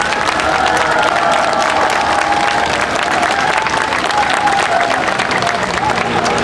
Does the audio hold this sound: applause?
yes